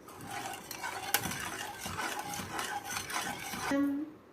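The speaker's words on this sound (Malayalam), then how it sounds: "ഇനി നമുക്ക് നന്നായിട്ട് പിടിച്ച് മിക്സ് ചെയ്യാം" A spoon stirs a raspberry jelly powder mixture in a bowl, giving a few seconds of scraping and rubbing with a sharp clink partway through, close and steady with no talk.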